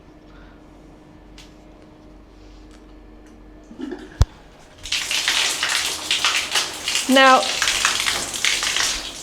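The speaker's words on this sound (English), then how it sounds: "Okay, right, I'll show you the shower." A basic, rather rough-looking shower in a Bali guesthouse bathroom is switched on after a click and a brief word, then a loud, steady hissing spray of water pours continuously close by.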